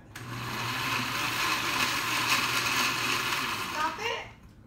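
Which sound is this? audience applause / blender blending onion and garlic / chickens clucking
blender blending onion and garlic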